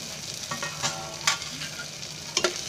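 Ginger garlic paste and tomatoes fry in a pan with a soft, close sizzle, broken by a few light scrapes and taps of stirring; no one speaks.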